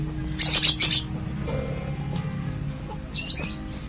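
Lovebird kept as a single fighter giving a quick series of sharp, high chirps, then a short pause and one more brief chirp, close and clear over a low background hum.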